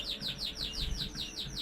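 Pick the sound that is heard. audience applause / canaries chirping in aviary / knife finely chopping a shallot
canaries chirping in aviary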